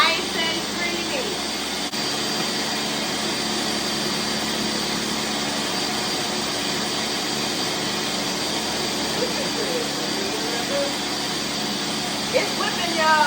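A mixer whips a batch of copycat Dole Whip with a steady, loud motor drone that holds unbroken from start to finish.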